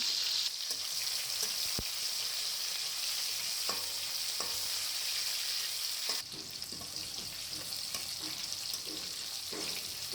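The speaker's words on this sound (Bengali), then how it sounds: "একটু ভেজে নিয়ে থেতো করা রসুন দিয়ে দিলাম।" Crushed garlic sizzles in hot oil with dried red chillies, a steady close crackle with a few sharp pops and brief stirring scrapes.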